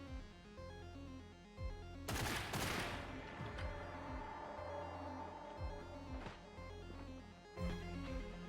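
In the video game Get Even, gunfire aimed at the player breaks out with a loud burst of shots and a crash, followed by scattered single reports over a steady droning game score.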